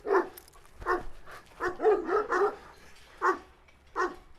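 Several dogs, including Kangal flock-guarding dogs, bark in short, irregular bursts, close and fairly loud, some yips overlapping, with brief pauses between.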